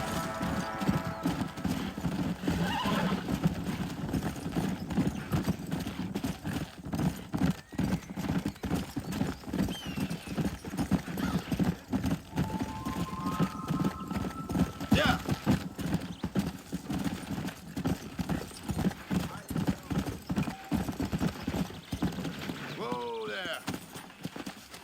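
In the game Red Dead Redemption, a horse gallops with a steady rapid clip-clop of hooves for most of the stretch, and a neigh rises near the end; a voice urges the horse on, and music plays faintly beneath.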